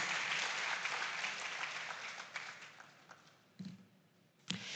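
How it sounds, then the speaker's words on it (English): Crowd at a school farm awards ceremony clapping for sponsors, dense applause that gradually fades, ending in a few isolated louder claps. "Let's give KIC and MasterCard another round of applause"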